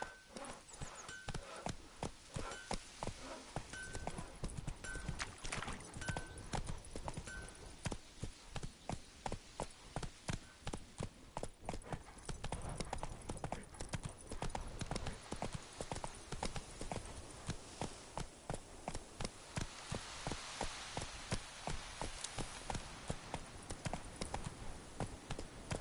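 Rapid, steady hoofbeats of a horse galloping in a PS4 video game, a continuous rhythmic clip-clop lasting throughout at fairly even loudness, with no talk over it.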